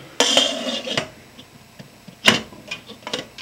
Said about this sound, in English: put the lid on